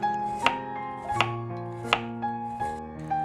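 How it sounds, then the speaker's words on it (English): A knife slicing carrot into thin slices on a cutting board, four or five crisp, evenly spaced chops with a light ring between them, close and clear with no talk. "First, we cut carrot into thin slices."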